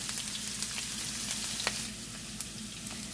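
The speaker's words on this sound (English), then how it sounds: "I'm just gonna saute that a little bit, maybe for a minute or two" Garlic sautéing in preheated oil in a pot, a steady close sizzle with small crackling pops and no talk.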